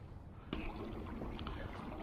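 A bow-mounted trolling motor drives a Pelican Catch 130 HD kayak at speed 4, giving a low, steady hum with water wash along the hull and a soft bump partway through.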